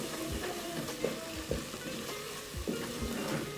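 Turmeric and garam masala are stirred with a spoon in a sizzling pan of creamy chicken, the steady fry punctuated by several scraping strokes of the spoon.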